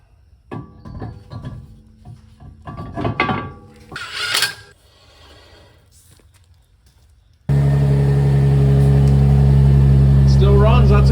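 Car engine, a Nissan 350Z with a new oil cooler, catches and settles into a steady, loud idle close by after a stretch of talking, clunks and shuffling.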